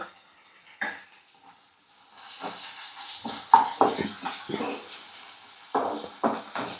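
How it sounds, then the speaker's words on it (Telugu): Chopped coriander is stirred into hot oil in a home kitchen, giving a steady sizzling hiss that builds after a quiet start, with occasional clinks of a utensil against the pan. "కొత్తిమీర అనేది కొంచెం పచ్చివాసన పోయే వరకు నూనెలో కలుపుకుంటే చాలు"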